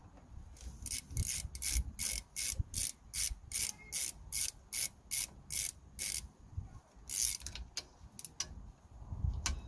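A ratchet wrench clicks in quick, even bursts while tightening a brake caliper bolt on a Volvo XC60, about a dozen close, crisp strokes with short pauses, then a few scattered clicks near the end.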